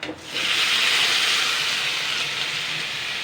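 Kundru (ivy gourd) and washed masoor lentils drop into hot oil with cumin in a wok and give off a loud, steady sizzling hiss that holds for several seconds.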